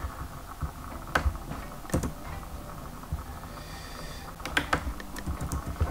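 Typing on a computer keyboard while writing a CV: irregular bursts of close, crisp key clicks with a few louder isolated strokes, alone and without talk.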